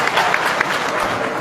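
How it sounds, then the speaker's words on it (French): An audience at a political gathering in Cameroon's North province gives a brief burst of dense, continuous clapping for a performer, loud and near. "Applaudissez-le s'il vous plaît."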